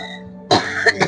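A single close, harsh cough bursts out, followed by a couple of shorter rough coughs in quick succession.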